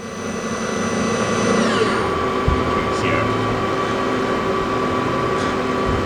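Citizen M-16III Swiss-type CNC lathe main spindle running at 5,000 RPM, a steady close mechanical whir with whining tones that drop and settle, a couple of faint knocks, no talk.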